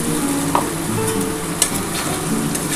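Spiced water hitting a pan of crab curry masala, an up-close bubbling sizzle with stirring scrapes and a couple of sharp clinks, no talking.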